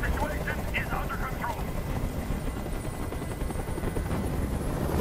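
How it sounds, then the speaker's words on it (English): Helicopter rotor noise from the video game Detroit: Become Human, a steady, loud thumping drone that fills the scene throughout, with game voices speaking over it. "I can't stand that noise anymore. Tell that helicopter to get out of here."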